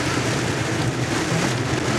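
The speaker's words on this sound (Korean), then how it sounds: "지금 비가 미치겠다. 비가 엄청나게 쏟아지고 있습니다." Heavy rain pours hard on a Hyundai Santa Fe CM during a road trip, heard from inside the car as a loud, dense, unbroken roar.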